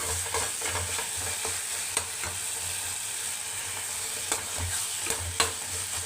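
Tomatoes are stirred and mashed in a frying pan for dried fish thokku, a close wet sizzle with repeated spatula scrapes and occasional sharp knocks on the pan, no talking.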